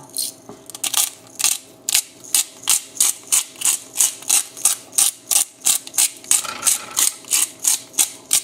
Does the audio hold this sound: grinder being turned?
yes